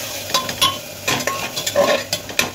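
Ginger, garlic and chilli paste is stir-fried in a pan for a chicken soup, with a utensil scraping and tapping in quick irregular strokes over a soft steady sizzle, near and moderately loud.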